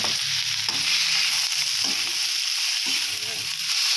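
Leftover vegetables with onion stir-fried in a pan: a loud, steady sizzle runs throughout, with scraping stirs at regular intervals close by.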